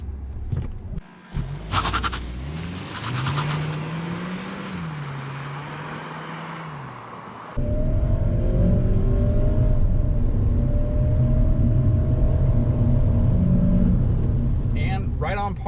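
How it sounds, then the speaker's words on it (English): A 2013 VW Jetta Hybrid accelerating flat out from a standstill to 60 mph, its engine note rising and droning steadily under strong road and wind roar, with quieter driving sounds before the run begins. "now time to see what this Jetta hybrid will do on a 0 to 60 test."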